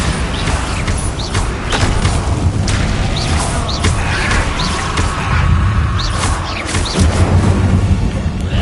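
The Bombarda explosion spell goes off in the game Hogwarts Legacy, with loud booming bursts and crashing debris over a dense, continuous layer of game effects and chirping sounds.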